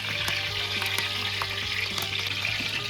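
Whole garam masala spices sizzle in hot oil for a tempering, a close, dense crackling fry with scattered sharp pops, and no one speaking.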